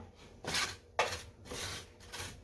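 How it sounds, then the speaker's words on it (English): A utensil scrapes crispy browned bits from the bottom of a skillet holding potatoes and eggs, several rough rasping strokes in a loose rhythm, close and fairly quiet with no talking. "Get all these little crispy bits up off of the skillet"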